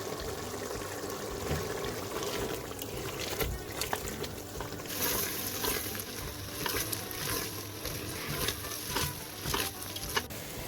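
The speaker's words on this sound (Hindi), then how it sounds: "तो मैंने इसकी हाई फ्लेम कर दिया कि जो बाकी का पानी है ये भी सब ड्राई हो जाएगा और साथ इसकी भुनाई अच्छी तरह हो जाएगी।" Black chickpea curry fries on a high flame, bubbling and sizzling up close with intermittent sharp spatters and stirring scrapes.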